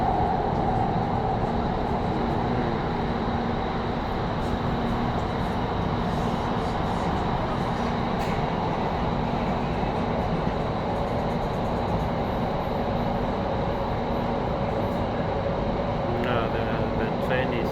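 Automatic driverless metro train in Qatar heard from inside a carriage, a steady rumbling, whooshing ride noise with a constant hum, while a voice talks over it.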